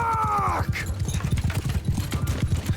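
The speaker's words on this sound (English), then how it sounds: "We're going to get our horse archers to start to charge." Massed hooves of charging horse archers in the video game Mount & Blade II: Bannerlord, a dense rapid clip-clop close and loud, opening with a horse's whinny over the pounding gallop.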